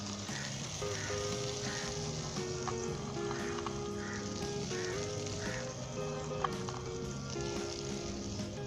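Vermicelli frying in butter or desi ghee for sheer khurma, with a steady, close sizzle and a soft crackle that runs the whole time. Faint music plays in the background.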